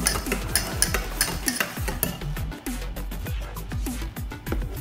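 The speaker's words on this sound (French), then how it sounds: "Je mélange, ça bien épaissi et il faut faire chauffer la purée de citron à basse température pour éviter de brûler le miel." Heated lemon purée with honey being stirred in a pan at low temperature, with quick, steady, rhythmic scraping strokes repeating close up and a light clink on some passes.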